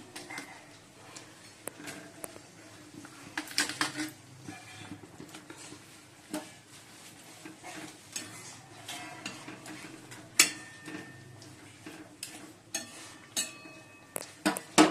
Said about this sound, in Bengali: ঝোলটা ফুটে গেছে এবার মাছগুলো দিয়ে দিচ্ছি